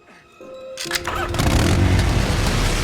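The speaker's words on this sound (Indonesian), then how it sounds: "Lalu Chucky menghidupkan mesin pemotong rumput dan mengarahkannya ke arah Shane." A lawn mower engine is pulled into life in the horror film Child's Play (2019), sputtering briefly before it catches and settles into a loud, steady roar.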